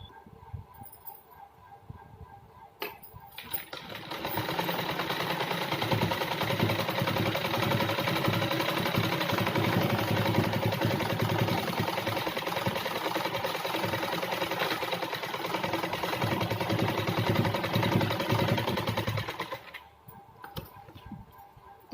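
A sewing machine stitches salwar fabric in a long steady run of fast mechanical whirring and ticking that starts up, holds constant for about fifteen seconds, then stops.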